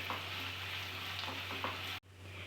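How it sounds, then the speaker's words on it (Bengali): Onions frying in a pan for Bengali mutton kosha, a steady broad sizzle with faint stirring clicks, continuous and close, cutting out briefly near the end before resuming. "এবার এই পেঁয়াজটাকে ভাজতে হবে"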